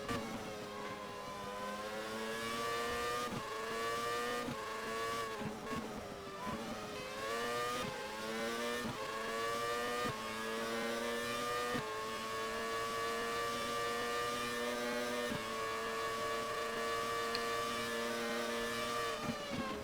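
Race car engine in Race 07 at Monza screams steadily at high revs, dipping briefly through the second chicane before climbing again, loud and close throughout.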